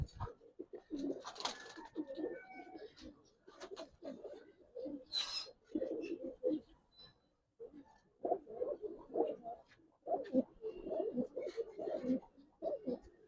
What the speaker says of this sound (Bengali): কবুতর দেখেন ভাই আজকে